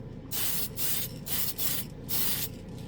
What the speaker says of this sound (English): These are my favorite spray can hobby paints